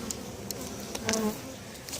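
Honeybees buzz around an open hive as a top box is added, a steady drone with a few louder passes close by and soft handling clicks.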